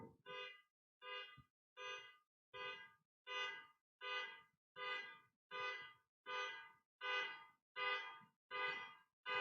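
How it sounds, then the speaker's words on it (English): A car alarm blares in a steady repeating pattern, about a dozen evenly spaced electronic honks, faint and distant with quiet gaps between. "There's a car alarm going off outside"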